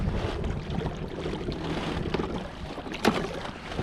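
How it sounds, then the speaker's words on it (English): Rowing a small boat across a winter lake during a carp fishing trip: steady broadband water and wind rush with low thumping strokes, one sharper knock near the end, no voices. "and then we can actually start rowing a little."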